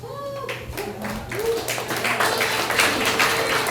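An audience at a congresswoman's town hall on Oahu, Hawaii, breaks into cheering and applause that swells after a brief moment of speech, becoming a dense, loud, sustained crowd roar.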